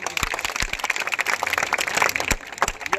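Crowd clapping at a political gathering for a party welcome event in Siwani ward 6, dense scattered claps filling the whole stretch at moderate loudness, with a few sharper individual claps standing out.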